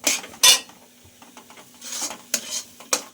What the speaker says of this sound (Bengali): গুঁড়ো দুধ দিয়ে আরও 2-3 মিনিট আমি নেড়েছি